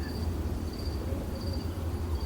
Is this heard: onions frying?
no